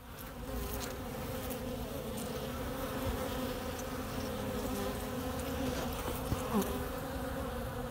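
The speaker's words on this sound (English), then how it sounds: "Got all these bees from around the area finding this comb." Swarms of bees gather around an exposed honeycomb in a basement, producing a continuous dense buzzing drone at moderate volume that holds steady without pause.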